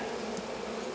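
Honeybees buzzing steadily at close range during a hive inspection, a dense continuous drone with no talking.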